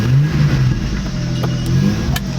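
A short-wheelbase Bundera 4x4 revs hard while clawing up a rock step, its engine droning loud and close with rising and falling pitch, no talk over it.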